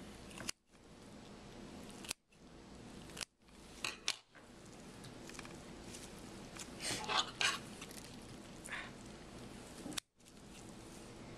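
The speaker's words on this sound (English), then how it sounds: "And your scissors work just fine on this." Scissors snip repeatedly through heart tissue during a dissection in close, crisp cuts with short pauses between, soft squishy handling noises in between and no talking.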